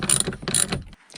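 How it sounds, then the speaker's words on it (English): Quick ratcheting clicks from a wrench turning a 15mm socket on seat belt anchor bolts in a Ford F150, a close burst of short mechanical ticks lasting about a second with no talking. "use a 15mm socket to remove these two bolts"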